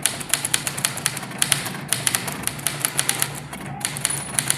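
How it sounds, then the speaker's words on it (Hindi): A manual typewriter clatters under quick, uneven keystrokes, each a sharp close click, with a brief bright ring of the carriage bell near the end. "देखिए फिर ये मेरा बेल की आवाज़ आई, मैं फिर लाइन को बदल देता हूँ।"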